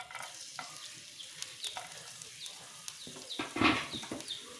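Finely chopped garlic sizzles softly in hot oil in a pan, a quiet crackling hiss with occasional clinks and stirring sounds.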